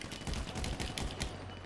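Rapid volley of gunshots in Grand Theft Auto Online, a dense string of sharp cracks fired in quick succession over about a second and a half, fairly quiet in the mix with no talking.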